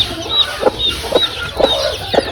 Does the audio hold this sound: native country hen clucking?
yes